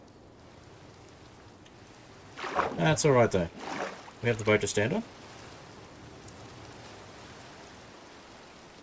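Steady rain falls throughout a Minecraft modpack game world, a soft continuous hiss underneath two short bursts of a person talking.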